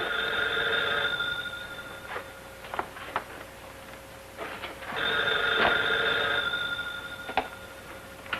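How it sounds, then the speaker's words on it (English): An old-fashioned telephone bell rings in two long bursts separated by a pause, fairly loud and close, with a few faint knocks and clicks in between. "Why don't you answer your phone?"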